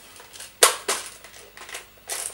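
An airsoft replica gun fires a few uneven sharp shots after its gearbox was opened and a faulty wire fixed, loud and close with pauses between bursts.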